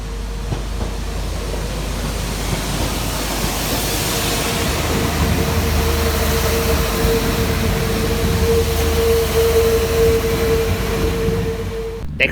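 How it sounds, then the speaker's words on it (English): A Transport for Wales Class 197 diesel unit departs Crewe station with a steady, loud engine rumble and rail noise that builds gradually, holding a sustained tone as it pulls away. "Next train out to depart is 197 120."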